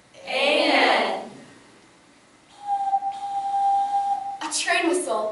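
After a breathy vocal sound, a person imitates a train whistle with a long, steady, hooting tone, followed by a brief vocal burst.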